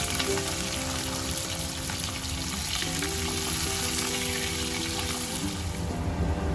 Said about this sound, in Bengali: এই তেলের মধ্যে আমি ছোট ছোট করে কেটে রাখা ফুলকপিটা ভেজে নেব